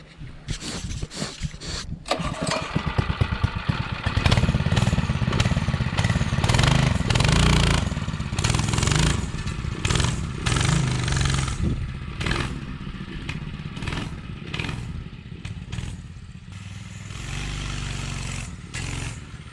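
A Doodlebug DB30 minibike fitted with a Predator 212 engine runs close by, a loud clattering small-engine roar that surges and drops with abrupt bursts of throttle before settling to a rough idle.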